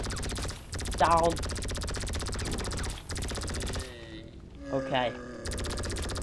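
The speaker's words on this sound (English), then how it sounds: "We're gonna have to get the fucking MG out." Machine gun fire during a zombie survival wave in GTA Online, a steady rattling stream of gunfire running beneath brief spoken remarks, with a short lull partway through.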